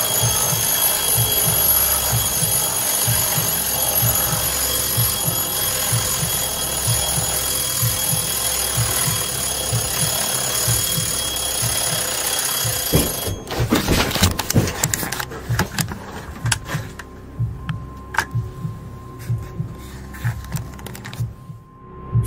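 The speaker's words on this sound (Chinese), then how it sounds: "废弃已久的闹钟仿佛被人推倒般倒在桌上， 随后竟响了起来" An old, long-unused alarm clock rattles out a fast, steady ring for a long stretch. Partway through, a burst of clattering knocks comes as it tips over onto a table, followed by scattered faint noises.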